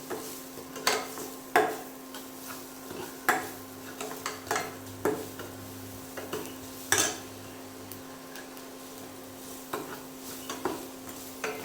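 A spoon stirs salt and red chilli powder into an okra mixture for Maharashtrian takatali bhendi, scraping the pan in repeated close, clinking strokes over a faint steady background hum.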